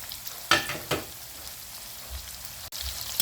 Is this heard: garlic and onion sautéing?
yes